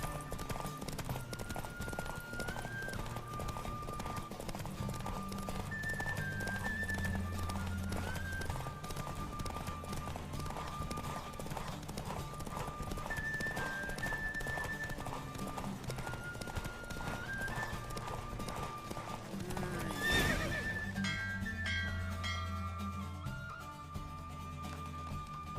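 A horse race in The Witcher 3 video game: steady galloping hoofbeats and neighs run throughout under game music, with a brief louder flourish near the end.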